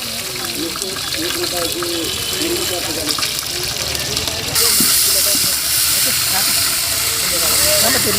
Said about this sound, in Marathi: सगळ्यात पहिल्यांदा आलं लसूण आलं टाकून घेतले बघा तेलामध्ये